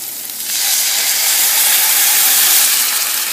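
A crab stir-fry erupts into loud, close sizzling and steaming hiss as vegetable broth, oyster sauce and soy sauce hit the hot pan, swelling then holding steady.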